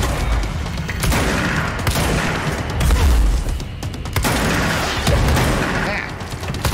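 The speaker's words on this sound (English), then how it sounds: "Dude, where do you get that tracking gun?" Tracking gun firing in the video game Control, a dense continuous barrage of shots and booms with heavy low rumble, loud and unbroken throughout.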